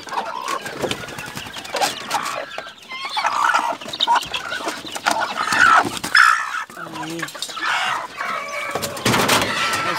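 Hungry chicks and hens clucking and peeping around feeding time on a farm, a busy overlapping flock with rooster-like calls, while a person talks over them throughout.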